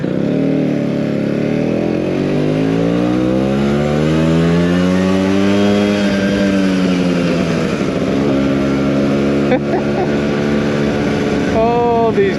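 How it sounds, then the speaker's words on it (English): A 20-year-old Vespa PX125 two-stroke scooter runs steadily while being ridden, its loud, close engine note cackling and bubbling as the pitch sweeps up and down with gear changes and throttle. "I like the kind of cackling and bubbling that a 2-stroke does"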